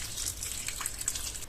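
About 50 to 60 grams of water pours briefly and quietly into a small saucepan of washed blueberries with vanillin, a soft splashing trickle with no voices.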